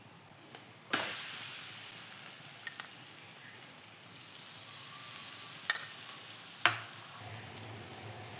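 Aloo chapati sizzles steadily in oil on a pan, a continuous crackling fry with a few sharper pops and spatters along the way, close and moderately loud with no voices.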